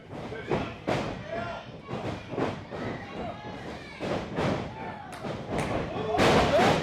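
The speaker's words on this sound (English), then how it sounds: "Clothesline. And both men go down." Wrestlers slamming onto the ring mat after a clothesline at a professional wrestling show, a series of heavy thuds at irregular intervals amid crowd noise and a commentator's voice.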